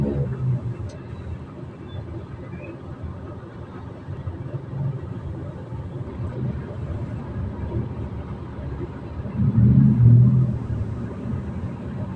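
Stalled traffic at the Pracha Songkhro intersection in Bangkok fills the air with a steady low rumble of idling engines, swelling briefly louder near the end with no voices heard.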